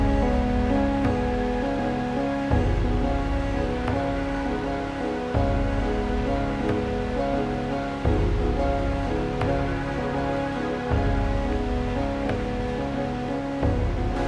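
A fast river current runs over slippery stones in the wild, giving a dense, constant rushing roar of water with slight surges and no voices.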